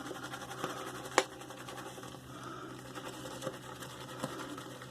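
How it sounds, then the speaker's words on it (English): A shaving brush working Captain's Choice soap lather in a shaving bowl: faint, close, soft scratchy swishing with a few sharper taps, quiet and irregular. "Dipped it in the froth and took it to my shaving bowl."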